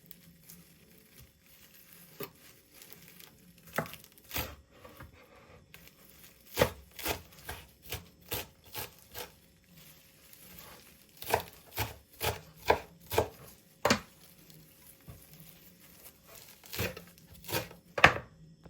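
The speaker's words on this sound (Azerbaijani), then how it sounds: "Kalanını da doğrayayım." A knife chops food on a cutting board in bursts of sharp, close, crisp strikes, some quick runs of several even beats and some single chops, with quiet gaps between.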